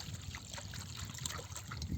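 A thin stream of tap water trickles steadily at close range while a pet laps from it, soft and continuous for a couple of seconds.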